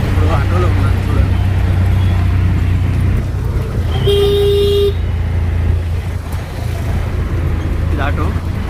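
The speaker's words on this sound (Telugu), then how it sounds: "ఇప్పుడు ఆటోలో ఉన్నాను చూడండి." An auto rickshaw ride through traffic in Tirupati: a steady engine drone runs throughout, with one clear horn honk in the middle and other traffic around.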